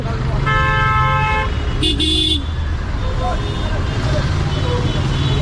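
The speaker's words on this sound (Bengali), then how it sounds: "বাসগুলো পুরো জ্যাম লাগা রাখছে।" Buses and cars crawl through a jammed road leading onto the Dhaka–Gazipur elevated expressway, with a steady low traffic rumble, one loud close horn blast and a shorter toot, while people talk over it.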